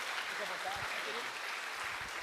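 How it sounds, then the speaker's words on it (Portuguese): Congregation applauding during a Sunday church service, a steady dense wash of clapping lasting throughout, with a few voices calling out over it. "Vamos aplaudir o Senhor?"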